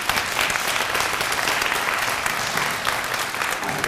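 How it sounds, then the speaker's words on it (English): Steady, dense applause from a kindergarten awards audience honoring young award winners, filling the whole stretch at an even level with no voices on top. "let's give them a big round of applause"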